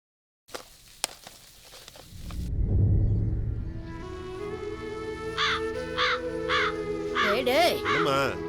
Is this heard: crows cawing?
yes